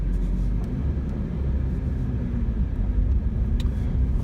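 Lotus Evora GT430 sports car driving along a rough gravel road, heard as a steady low engine and tyre rumble from inside the cabin with faint crunching and occasional light knocks, continuous throughout.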